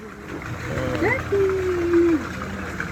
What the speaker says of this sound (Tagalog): Wow, dolphin!